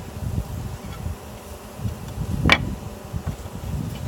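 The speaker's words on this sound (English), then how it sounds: "So now you'll see all these bees here, but I'm going to brush them." Honey bees buzz around an open hive during a queen release, a continuous close insect drone with one brief louder pass near the middle.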